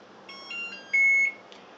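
A short electronic melody of thin, high beeps from a microwave oven, rising in pitch and ending on a longer held tone, then a faint final blip.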